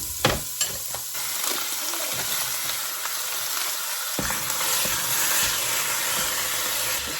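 Two pounds of ground beef sizzling steadily in sesame oil with onion in a home kitchen pan, a dense continuous fry hiss with a few stirring scrapes near the start.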